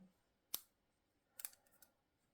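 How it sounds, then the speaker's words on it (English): Scissors cutting yarn while finishing a crocheted candy cane decoration, two crisp close snips about a second apart, the second followed by a few light clicks, in a quiet room. "cut your yarn"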